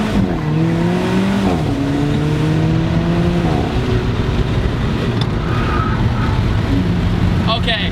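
An Alfa Romeo 4C accelerates hard with rising engine pitch through several gear shifts, loud and close from inside the cabin, with faint talk underneath.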